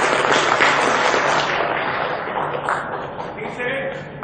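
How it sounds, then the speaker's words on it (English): Loud, dense clapping from a large crowd, sustained throughout and gradually fading a little toward the end. "a huge round of applause."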